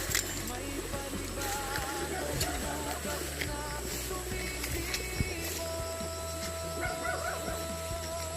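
A dog near a forest shack barks and yips in short bursts, with whimpering between them, under people talking and steady background ambience.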